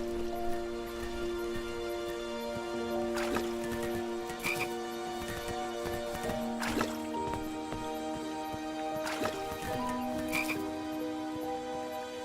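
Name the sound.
frogs croaking in King's Quest video game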